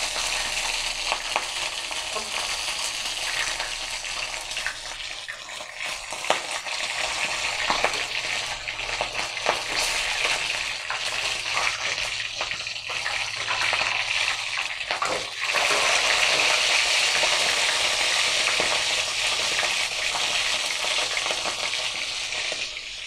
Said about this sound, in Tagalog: tuloy-tuloy lang po ang aking pagpiprito